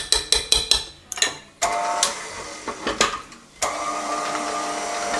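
An electric mixer whips cream for a strawberry fraisier cake. A few sharp knocks and short bursts come first, then the motor restarts into a steady whirring drone that carries on to the end.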